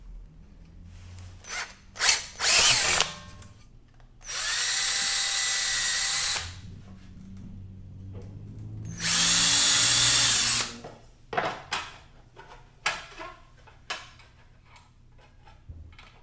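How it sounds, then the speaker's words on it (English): A power drill whines in two sustained bursts of a few seconds each, drilling holes in a metal angle, separated and surrounded by clanks, taps and handling noises of the metal being worked. "Drilling some holes in our little piece of angle to mount it to the side of the plywood."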